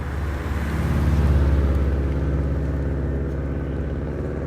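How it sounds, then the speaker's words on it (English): A 2014 Subaru STi with an FP Blue turbo, cruising with its exhaust note and turbo intake as a steady, loud, low rumble that swells slightly midway and holds for several seconds with no talk. "listening to the exhaust note, listening to the intake,"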